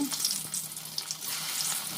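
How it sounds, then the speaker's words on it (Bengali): Steady, close hiss and crackle of fish pakoras deep frying in hot oil, with a bright sizzling texture and no voices. "এইভাবে সবগুলোই আমি পকোড়া ভেজে নেব"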